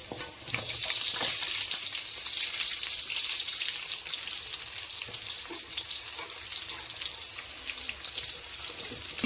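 Onions sizzle in a pan with a loud, steady hiss that starts abruptly as they are added and keeps crackling evenly, close by with no talk.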